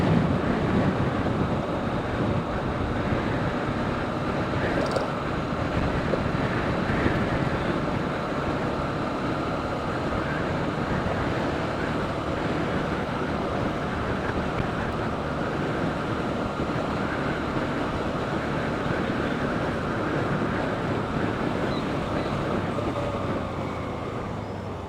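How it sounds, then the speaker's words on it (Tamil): Strong wind roars steadily over a motorbike rider on a monsoon ride from Salem to Valparai, a dense, loud, unbroken rush of buffeting noise lasting throughout with no speech. "இங்க அடிக்கிற காத்தியே என் வண்டி தள்ளுது."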